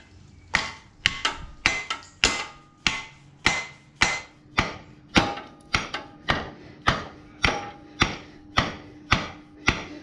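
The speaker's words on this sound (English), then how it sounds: "yes, a hammer, choose the rubber end." Rubber-ended hammer blows knock a Suzuki Boulevard M109R engine mount into place: about twenty evenly spaced, sharp, loud thuds, one every half second or so, close up with no voices.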